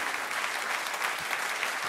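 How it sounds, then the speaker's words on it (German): An audience at a German-language economics lecture gives steady, dense applause, an even wash of many hands clapping at moderate distance that fills the whole moment without pause. "Dein Applaus. Dankeschön."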